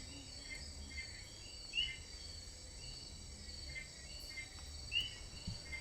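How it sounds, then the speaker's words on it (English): A steady night chorus of frogs calling in the tropical forest of San Cipriano, Colombia, with a continuous high trilling layer and a few brighter chirps standing out, moderately distant and fairly quiet. "The frogs in the background are what I recorded that night."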